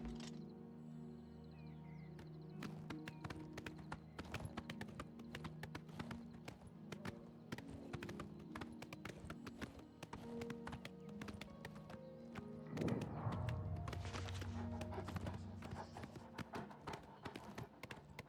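A horse's hooves clip-clop steadily on the ground in the video game Oblivion, a rapid even rhythm that continues throughout with a whinny and louder rumble near the end.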